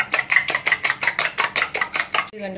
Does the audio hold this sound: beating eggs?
yes